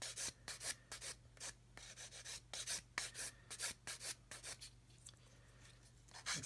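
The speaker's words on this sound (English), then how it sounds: "I'm going to come in with the coarser stick and just sand away." A coarse sanding stick rasps back and forth across a glued seam edge, a close series of dry scratchy strokes in an irregular rhythm with brief pauses, alone over a low steady hum.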